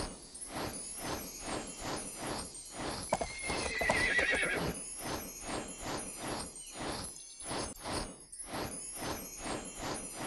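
A horse in the Barbie Dreamhouse Adventures video game stable neighs and whinnies while hooves clip-clop in a steady rhythm, loud and close, with no talking.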